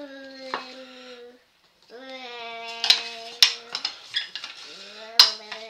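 Beef, veal and rice stuffed-tomato filling is stirred in a pot, with a few sharp metal scrapes and clanks of a utensil against the pot heard alongside a prominent drawn-out voice-like tone.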